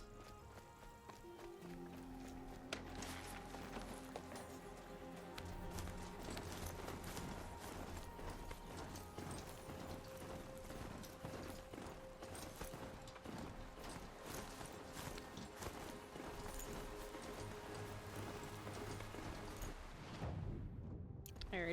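Mount hoofbeats in the video game Horizon Zero Dawn, a fast steady clip-clop of a galloping horse under game music and ambience, continuing for the whole stretch with a brief pause near the end.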